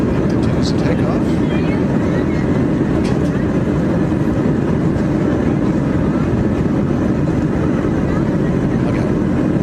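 Airplane engines roar during a flapless takeoff, a loud, steady broadband rumble with wind-like noise that continues without a break.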